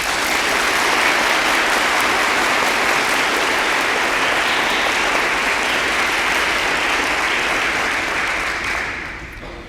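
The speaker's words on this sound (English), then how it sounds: "please join me in a round of applause for all of our award recipients this evening" Audience applauding award recipients at a high school MCJROTC awards ceremony, dense sustained clapping from a large crowd that fills the room and fades slightly at the end.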